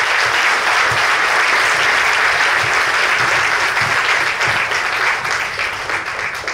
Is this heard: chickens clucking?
no